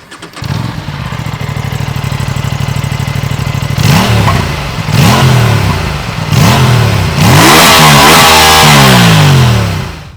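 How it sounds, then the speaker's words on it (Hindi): Aprilia RS 457, a 457 cc twin-cylinder sport motorcycle, idles close and loud, then is blipped in repeated rising revs that climb higher and longer toward the end. "एप्रिलिया का 457 सीसी का ट्विन सिलेंडर इंजन इस बाइक में मिलता है"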